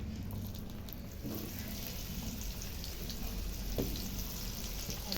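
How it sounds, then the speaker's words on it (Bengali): Papaya and potato pieces fry in hot oil with a little turmeric for a mutton dish, giving a steady close sizzle and crackle with a few louder pops. "গরম হয়ে গেছে, এবার পেঁপে আর আলুগুলোকে ভেজে নিচ্ছি।"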